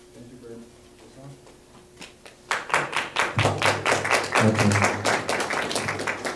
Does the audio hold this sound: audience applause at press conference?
yes